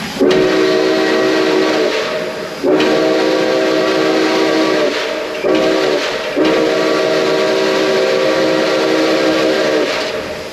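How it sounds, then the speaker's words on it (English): A loud whistle on steam locomotive Nickel Plate Road 765 sounds in three long blasts, the last the longest, close and piercing over a hissing background. "you blow the whistle you want"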